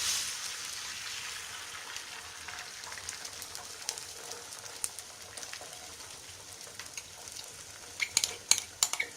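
Beaten hen's egg poured into hot coconut oil in a pan while making egg fried rice, giving a steady bright sizzle with scattered crackles and pops that sharpen near the end, close and moderately loud with no talking.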